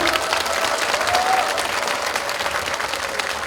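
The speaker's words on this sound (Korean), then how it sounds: "여러분 박수 한번 보내주십시오." A crowd at a People Power Party legislative report meeting in Yeongju, South Korea, applauds with thick, continuous clapping, loud and steady for a few seconds with no gaps.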